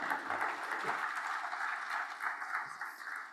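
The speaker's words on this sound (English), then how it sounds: "I would like to request you to give a first round of applause to my panelists here" Applause for the panelists on the floor of a regional sustainable development forum, a brief burst of clapping from the audience filling a few seconds at fairly steady strength.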